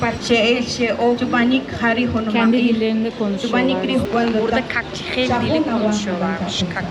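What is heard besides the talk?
No everyday noise stands out behind the speech.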